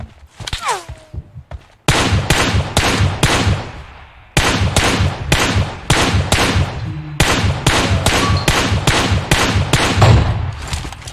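Rapid bursts of PUBG Mobile gunfire crackle almost continuously, loud and close, with brief pauses between volleys and a voice talking faintly underneath.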